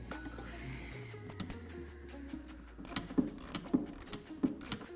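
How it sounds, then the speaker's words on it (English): A ratchet with a deep socket tightens a bolt on an Airaid MXP cold air intake in a 2020 Jeep Gladiator, with close metallic clicks and a few sharp ratcheting bursts over a low engine-bay hum. "It is a tighter fit, but if you use a ratchet and a deep socket"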